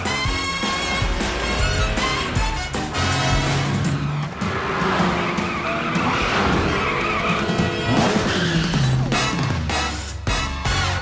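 A cartoon cat-themed superhero car drives fast with loud, sustained tire skids and squeals, engine noise and music running throughout with no talk.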